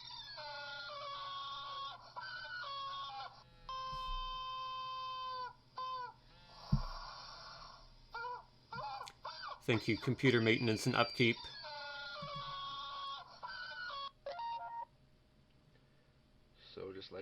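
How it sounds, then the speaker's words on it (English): A homemade phone ringtone made of chicken clucking and rooster-like squawks rings out of a Magic Jack phone in repeated bursts, with a louder cluttered squawk section midway, while a person talks briefly in between. "That was a beautiful homemade ringtone. Crazy chicken."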